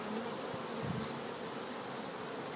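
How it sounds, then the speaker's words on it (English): Dense, continuous buzzing of many honey bees swarming close by, a steady droning hum with no voices. "If you kind of watch what the bees are doing and see where they're fanning"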